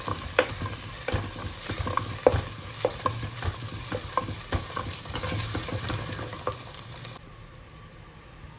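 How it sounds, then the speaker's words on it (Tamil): A large onion sautéing with spices in a pan for South Indian tomato curry: a continuous close sizzle with frequent stirring clatters and scrapes, cutting off near the end. "ஒரு பெரிய வெங்காயத்தை போட்டு வதக்கிக்கணும்."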